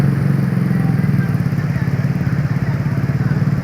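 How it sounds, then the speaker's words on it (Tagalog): A Yamaha NMAX scooter rides into flood water, its engine giving a close, steady pulsing drone throughout. "Ay, may NMAX na pumasok. Tignan natin kung kaya."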